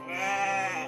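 A single sheep gives one loud, sustained bleat up close, a bright quavering cry lasting about a second.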